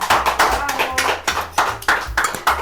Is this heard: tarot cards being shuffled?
no